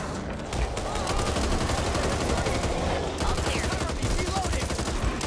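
Sustained rapid gunfire in the Back 4 Blood video game, a dense stream of shots crackling without pause through the whole stretch, with other combat noise mixed in.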